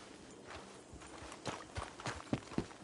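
Faint, uneven clip-clop of horse hooves on hard ground in a video game, a few irregular thuds growing slightly louder, under a soft background hiss.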